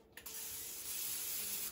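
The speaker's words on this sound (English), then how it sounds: "A little bit of spray." Cooking spray hits a hot skillet before crêpe batter goes in, a close, continuous hissing spray lasting about a second and a half and cutting off sharply.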